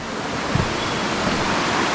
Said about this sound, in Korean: 중원 폭포 와 멋있다